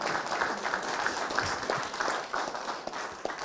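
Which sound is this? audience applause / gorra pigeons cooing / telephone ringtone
audience applause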